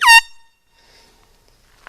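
A small handheld air horn gives one short, loud, blaring blast right at the start, then fades into near silence with a faint click at the end.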